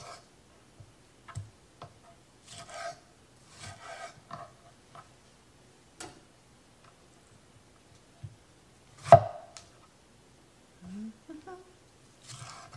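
A knife trims bad spots off produce for canning salsa, making soft, sparse ticking cuts and scrapes close by, with quiet speech and pauses between the strokes.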